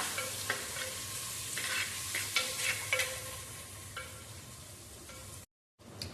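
Cauliflower and tomato with kasuri methi are stirred in a hot pan for soybean pulao, a spoon scraping in irregular strokes over a steady close sizzle.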